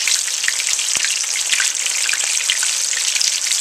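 Squirrel pieces coated in a peppery mix fry in a pan of hot oil, a steady loud crackling sizzle with scattered pops and no voices.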